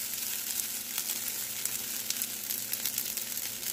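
Vegetable fried rice tossed in a hot wok gives a dense, continuous sizzle close up, with faint scraping ticks from stirring running through it.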